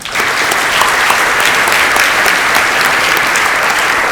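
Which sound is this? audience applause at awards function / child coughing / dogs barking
audience applause at awards function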